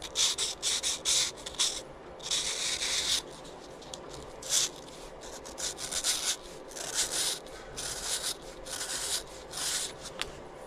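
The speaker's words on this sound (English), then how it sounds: "Just gonna lightly tone down those edges a bit." Light hand sanding along the edges of a part on a 1984 Yamaha Virago 1000 motorcycle, with steady back-and-forth rasping strokes in short bursts, close and moderately loud with no talk.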